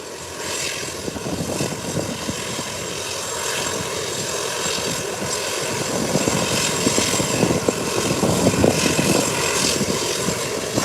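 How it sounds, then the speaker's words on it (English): An American Airlines airliner's engines roar on its takeoff roll down the runway, a loud, continuous broadband rumble that builds slightly toward the end. "American Airlines has started its journey down the runway. It's a bit noisy now with the engines"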